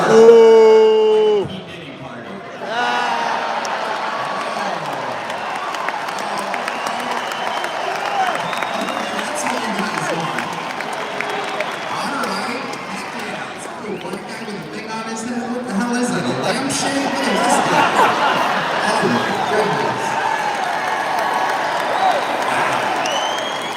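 A crowd at a Trump rally in Madison applauds and cheers in a sustained, fairly loud wash of clapping and shouts, with a voice speaking over it at the start.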